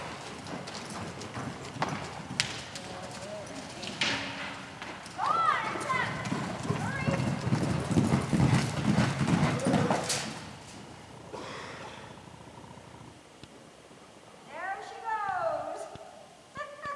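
Horses moving around an indoor rodeo arena during a barrel racing event, with soft hoof clip-clops scattered through the clip under an announcer's voice and crowd noise, plus a few nearby knocks and rattles.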